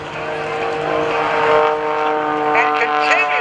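An aerobatic airplane's propeller engine at an airshow, droning steadily and swelling as it accelerates out of a maneuver, heard from a distance with someone talking over it.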